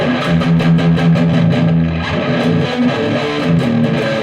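A thick, heavily distorted electric guitar through a Marshall JCM 800 pedal plays steady strummed chords with a gritty, saturated, crackling tone from too much gain, and quick rhythmic pulses throughout.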